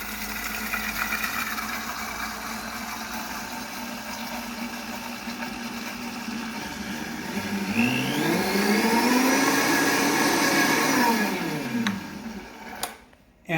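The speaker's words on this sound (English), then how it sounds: "turn your blender on and pour the butter" Kitchen blender whirring steadily as hot melted butter is poured in to make hollandaise sauce, its motor pitch rising and warbling as the sauce thickens, then cutting off with a couple of clunks.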